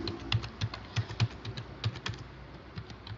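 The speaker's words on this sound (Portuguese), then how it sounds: "Vou tentar digitar mais de 11 números, ele já trava aqui o meu teclado" Keystrokes on a computer keyboard as numbers are entered, a quick irregular run of light, close clicks with short pauses between them and no voices.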